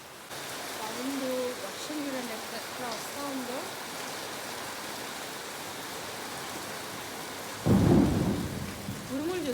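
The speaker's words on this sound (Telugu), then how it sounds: "ఉరుములతో కూడిన వర్షం అనమాట" Steady rain pours down in Nellore while a loud thunderclap bursts near the end and rumbles on; faint chirping calls sound early on.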